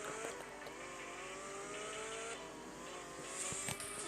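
A car in the Roblox video game drives with a continuous engine hum and occasional tire sounds, steady and moderately loud, with no talking.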